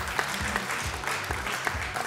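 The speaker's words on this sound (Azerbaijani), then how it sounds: "alqışlar." Audience clapping at a stage show as a guest is called up, a steady close burst of applause from a small crowd filling the short moment.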